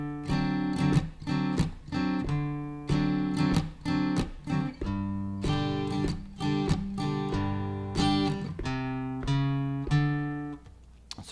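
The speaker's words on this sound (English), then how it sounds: "when you strum, you hear this raking sound." An acoustic guitar is strummed with a percussive raking technique, muted scratchy strokes mixed between ringing chords in a steady rhythmic pattern, played alone at moderate volume.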